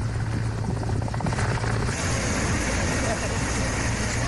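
An Air Force rescue helicopter airlifts a man stranded in fast floodwater during heavy rain in Rajouri, Jammu and Kashmir, its rotor giving a loud, steady, close chop and engine roar throughout, with a voice talking over it.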